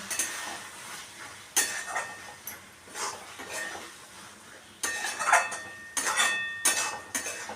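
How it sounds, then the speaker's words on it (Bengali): Pointed gourd and egg curry, with garam masala and chopped coriander, stirred in a pan: close metallic spoon scrapes and clinks arriving in bursts, with quieter pauses between them and no talking. "দিয়ে এটা আমি ভালো করে মিশিয়ে নিচ্ছি।"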